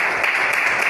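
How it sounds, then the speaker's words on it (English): Audience applause at a Toastmasters meeting, a brief steady patter of clapping from a room of people. "let's give a round of applause"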